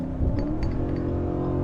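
A Nissan Titan pickup loaded with 1,400 pounds in the bed pulls onto a freeway, its engine a low steady drone heard from inside the cab, with no voices.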